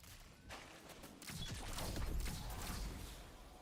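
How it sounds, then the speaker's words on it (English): Explosions and gunfire from the video game Destiny 2, a quiet burst of crackling shots swelling into a rumbling blast that lingers. "What is that explosion?"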